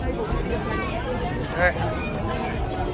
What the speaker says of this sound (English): The crowd here is just ridiculous today.